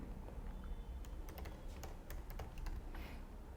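Programming code being typed on a computer keyboard, with a run of close, quiet key clicks in irregular bursts over faint room hiss, no talking.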